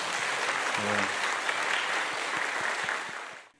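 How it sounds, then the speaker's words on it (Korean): A church congregation claps together at a Sunday worship service, steady dense applause sustained throughout and fading out at the very end. "우리 서로를 위해서도 그분들을 위해 박수로 축복하겠습니다."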